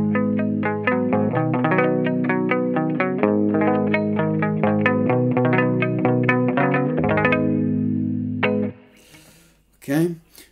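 Guitar strings muted with an object of a different material, giving a quick run of short, choked plucked notes, followed by a brief pause and a couple of faint rustling scrapes at the end.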